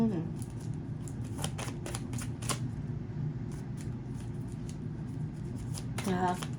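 Tarot cards being shuffled by hand give a steady, soft papery riffling with scattered sharper flicks and a denser flurry near the end, close by over a low background murmur.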